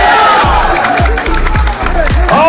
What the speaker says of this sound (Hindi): लगाओ ना तालियां